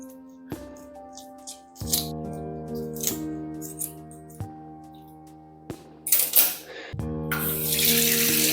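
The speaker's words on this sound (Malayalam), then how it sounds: "ഒരു 3-4 വെള്ളത്തിൽ കഴുകണം കേട്ടോ." Cut round pieces of seer fish rinsed under a running kitchen tap, water splashing in bursts that grow louder and fuller toward the end, over a steady background of music.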